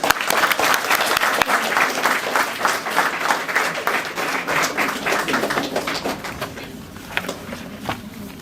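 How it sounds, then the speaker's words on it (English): An audience at a Year 6 graduation ceremony at Playford College claps loudly and steadily, a dense sustained applause that slowly fades over several seconds. "Can we all have a round of applause for them?"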